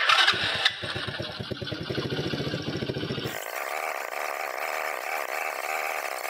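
A moped engine sputters with rapid, uneven firing pulses, then settles into a smoother, steady mechanical drone while running in gear during clutch and carburetor adjustment.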